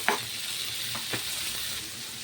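Onions frying in a pan on the stove, with a steady close sizzle and a few sharp scrapes of a spoon against the pan.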